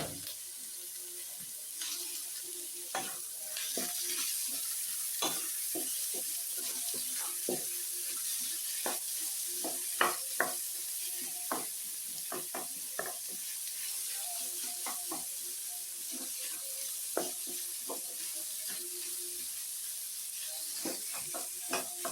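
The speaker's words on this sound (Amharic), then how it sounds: "ይሄን በአንድ ላይ አድርገን ጥብስ እናደርገዋለን በዘይታችን ማለት ነው።" Onions, green beans and carrots fry in hot oil, giving a steady close sizzle throughout with frequent clacks and scrapes from stirring, and a brief run of tap water partway through.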